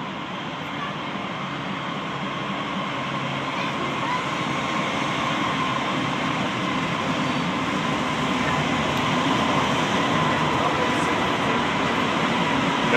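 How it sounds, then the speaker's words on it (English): GE Evolution series locomotives hauling a passing train make a loud, continuous rumble and rolling clatter that builds slowly, with brief voices mixed in. "Gevo there, Martin. See the Gevos?"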